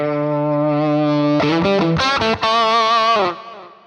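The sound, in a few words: distorted electric guitar through amplifier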